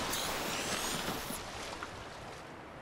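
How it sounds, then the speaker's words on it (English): Ocean waves above the water in the video game Subnautica wash as a broad, steady surf hiss that eases slightly midway, with no talk over it. "Oh, this time I can kind of hear waves."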